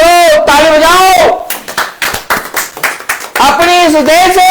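Congregation at a church service clapping hands in a brief run of sharp, rhythmic claps between stretches of a preacher's loud voice.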